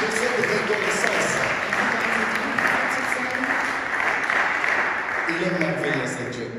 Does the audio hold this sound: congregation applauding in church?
yes